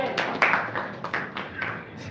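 A group claps briefly at a mosque youth training session, with a quick run of hand claps mixed with voices.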